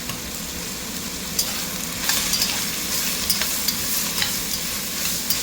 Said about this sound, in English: get those carrots mixed in